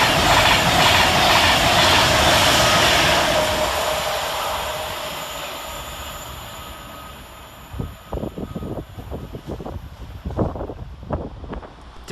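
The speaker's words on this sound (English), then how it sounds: "And going in the opposite direction is 390-132, working 1 Sierra 57 from London Euston to Glasgow Central." A Class 390 electric train, unit 390-132 running from London Euston to Glasgow Central, rushes through Nuneaton station with a loud roar and wind buffeting that fades, followed by rhythmic clickety-clack of wheels over rail joints.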